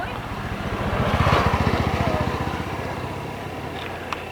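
A new Honda XR150 motorcycle engine idles nearby with a steady pulsing putter that swells briefly and then settles, running alone without talk.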